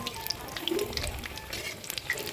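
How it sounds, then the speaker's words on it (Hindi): Besan-coated bread pakoras frying in hot oil over a low flame, making a quiet, steady bubbling sizzle with small crackles and pops close by, without any talking. "ब्रेड को बेसन में लपेटकर ऐसे ही तेल में डालना है, धीमी आंच में पकाना है"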